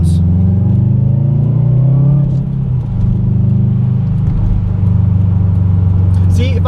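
A 2014 Subaru WRX engine gives a loud, deep, throbbing rumble with rising and falling rev tones, close by and continuous throughout.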